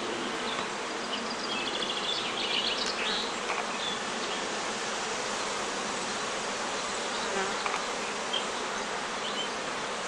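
Honeybees swarming around an opened hive during a beekeeper's colony split, a dense continuous buzz of many bees, steady and close, with no talk.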